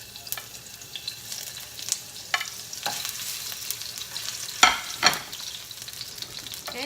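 Sliced ginger sizzles in about two tablespoons of virgin olive oil for a Filipino chicken curry, a steady fry broken by a few sharp crackling bursts and stirring clatters.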